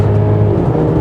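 A 2024 Mercedes-Benz GLC 300 4matic Coupe with a 2.0-litre inline four-cylinder engine surges on kickdown, a loud, steady engine drone and whir heard from inside the cabin with no talking.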